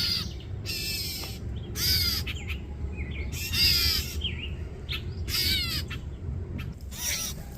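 Parent crows caw loudly in a series of harsh, repeated calls near their nest outdoors, several bursts close by over a steady low rumble of background noise.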